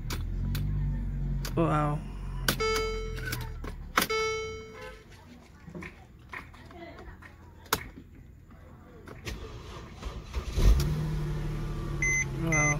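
2011 Mercedes-Benz C300 with a no-start and CAN bus communication fault, heard with dashboard chimes and beeps before the engine starts and settles into a running hum. People talk briefly throughout.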